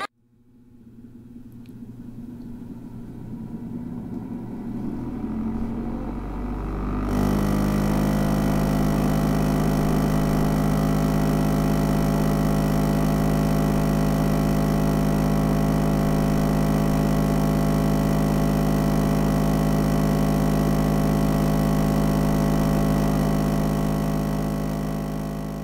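Magnus electric chord organ motor drones as a thick, steady hum; it starts quiet and sparse, then swells abruptly after several seconds into a loud, sustained wall of layered tones that holds unchanged to the end.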